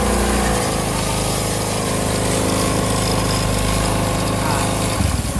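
A Honda Beat automatic scooter engine revved lightly, its steady loud running carrying a rattling, chattering noise throughout, close to the microphone.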